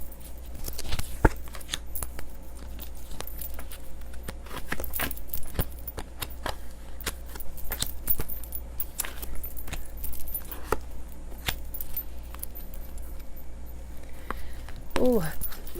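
A deck of reading cards being handled and pulled apart, with dense crisp clicks, snaps and riffling taps running steadily throughout at close range.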